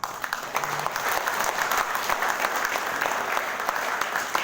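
Applause from a crowd at a gathering, with many hands clapping in a dense, steady roar that carries evenly throughout.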